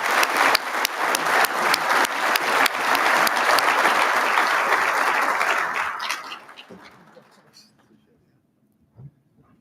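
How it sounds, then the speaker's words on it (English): Audience applause at an awards dinner for Marine Corps installations and logistics honorees, dense loud clapping from a large room that holds steady for several seconds, then fades out, leaving faint room noise. "Please join me in a round of applause for Mr. Berger."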